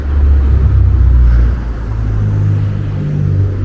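Road traffic passes through the town of Bewdley. A loud, close, low engine rumble swells early, then eases into a steadier background drone of vehicles.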